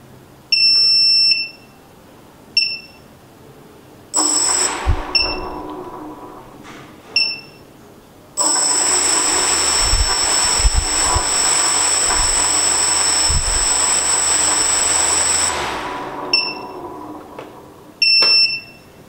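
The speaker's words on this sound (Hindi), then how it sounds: "तो गाइस आप देख सकते हैं कितनी अच्छी तरह ये वर्क कर रहा है ड्रोन" A homemade RC drone sits on a table and powers up, giving short high electronic beeps before its motors spin up into a loud, steady whirring hum for several seconds, then wind down to more beeps.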